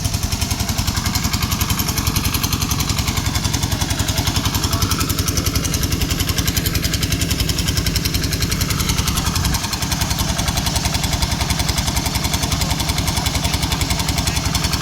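A well drilling machine's engine runs steadily and loudly up close, a continuous rumbling drone with a fast rhythmic pulse that holds unbroken throughout, with no voices.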